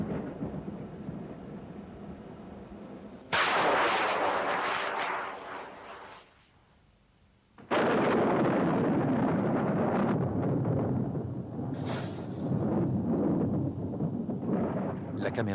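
Thunder from rocket-triggered lightning: a sharp crack followed by a long rolling rumble, then a second loud crash after a brief lull, with wind buffeting the microphone.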